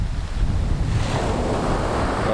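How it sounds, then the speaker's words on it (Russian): Sea waves breaking on Cleopatra Beach in Alanya, Turkey: a continuous loud surf wash mixed with heavy wind buffeting the microphone, with no speech. "я приближу море"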